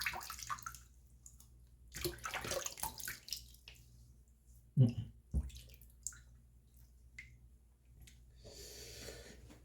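Tap water runs for a wet shave, with soft irregular splashing and trickling under a quiet room tone, a few louder sloshes and drips midway and a brighter hiss of flowing water near the end.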